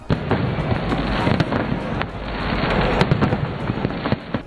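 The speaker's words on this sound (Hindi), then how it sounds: "लाहौर के लिबर्टी चौक पर शानदार आतिशबाजी का मुजाहरा किया गया।" A steady barrage of New Year fireworks at Liberty Chowk, Lahore, many overlapping pops and crackles at a distance, with faint crowd murmur underneath.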